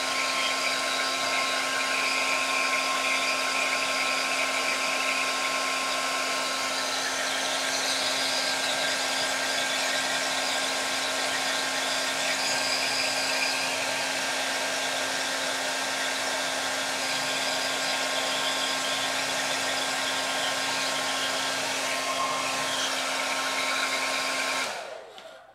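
A handheld hair dryer blows steadily to dry acrylic paint on an artwork, a loud continuous whirring hum with a tonal whine that runs unbroken, then cuts off at the end.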